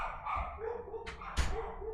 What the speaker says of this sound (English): These dogs shut up.